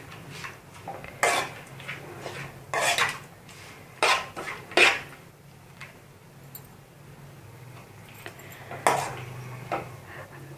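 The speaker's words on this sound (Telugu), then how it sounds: "వేసుకొని మరొకసారి అన్నీ కలిసే విధంగా కలుపుకుందాం" A spoon mixes lemon rice in a metal vessel, giving sharp, irregular clinks and scrapes at scattered moments over a quiet background.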